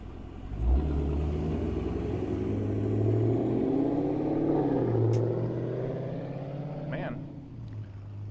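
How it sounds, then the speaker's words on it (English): A loud car drives past on a residential street in Kingwood, Texas, its engine rumble swelling and then easing away, with a person talking over it. "I'm gonna let this car pass by here."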